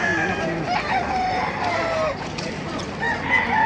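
A rooster crows at a busy outdoor market in Baliuag, Philippines, amid a noisy background with faint voices mixed in.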